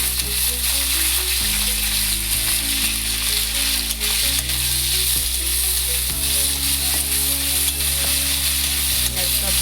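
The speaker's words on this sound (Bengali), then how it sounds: "ভাজা হয়ে গেছে পিঁয়াজটা" Onion sizzles steadily in hot oil in a pan, a loud continuous frying hiss with occasional stirring scrapes throughout, no talk over it.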